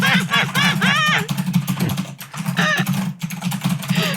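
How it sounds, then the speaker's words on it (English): Someone types on a computer keyboard, with quick clattering keystrokes mixed under people talking and laughing close to the microphone. "will you give us a little bit of your typing?"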